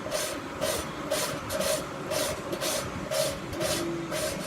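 Gritty, rhythmic rasping of an engine valve being lapped into its seat with grinding compound for an SB2-2 racing engine, steady back-and-forth strokes about twice a second, close and fairly loud.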